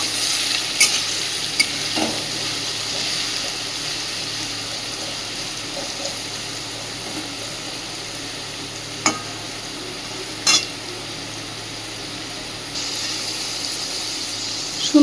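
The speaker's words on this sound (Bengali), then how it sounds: "সুন্দরভাবে আলুটা দেখুন ভেজে নেওয়া হয়ে গেছে" Potatoes frying in a pan of hot oil, a continuous even hiss of sizzling held close for a long stretch, broken by a few faint clicks and scrapes of stirring, with no talk.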